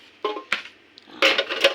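A shell-shaped ceramic plate is handled up close, giving a few sharp clinks and scrapes, first scattered and then a denser cluster near the end, with no talking.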